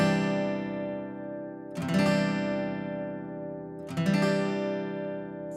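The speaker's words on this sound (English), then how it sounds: "You strum all the chords." Acoustic guitar strumming chords, two bright downstrokes ringing out and sustaining between them, played slowly and alone at close range.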